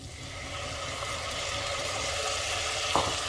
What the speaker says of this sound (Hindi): अब इसमें ये टमाटर की प्यूरी डालेंगे जो हमने बना के रखी थी।